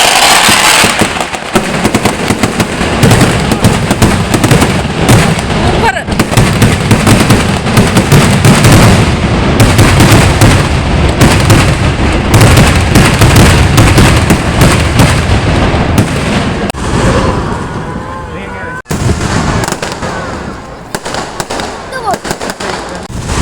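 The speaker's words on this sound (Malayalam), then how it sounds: "അതൊരു ഒന്നൊന്നര വെടിക്കെട്ടായിരുന്നു കേട്ടോ." A fireworks display at a church festival in Kanjirappally, Kerala, sends dense, loud, continuous bangs and crackles for over twenty seconds, thinning slightly near the end, with crowd voices underneath.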